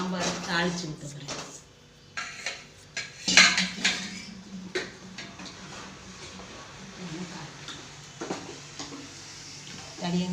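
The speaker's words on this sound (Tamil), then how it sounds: "சாம்பார் தாளித்து ஊற்ற போகிறேன்." Metal pots and utensils clatter in a home kitchen as a tempering is poured into ash gourd sambar, with scattered clinks, a faint sizzle and soft stirring, and a person talking in between.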